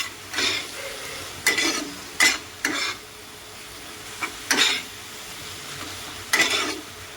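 Chicken pieces stirred with Kashmiri chilli powder and other masala spices in a pan, with several distinct spoon scrapes spaced a second or so apart over a faint sizzle, close and clear, no talking.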